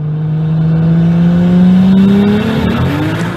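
A budget Lexus IS300 accelerates hard in a test pull, its engine note climbing loud and close over a few seconds before easing near the end.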